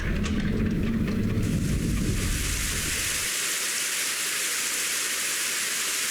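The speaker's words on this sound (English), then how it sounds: "The first thing I could hear was the sound of rain" Rain pours down, a dense, loud hiss that continues throughout, with a heavier low rumble in the first few seconds that then drops away.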